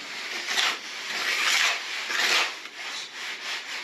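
A 6-inch knife scrapes grout over Italian terracotta floor tiles in repeated gritty rubbing strokes. The steady back-and-forth passes are close and moderately loud, with no talking.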